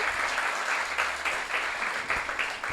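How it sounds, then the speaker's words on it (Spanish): A church congregation at a Spanish-language service applauds in a loud, continuous wash of clapping from many hands, filling the room without pause. "entonces dele un aplauso al Señor"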